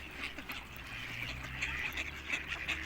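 Ducks gather in a park, giving a steady run of overlapping quacks and chatter at moderate distance over a low background rumble.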